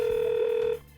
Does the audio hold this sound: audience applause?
no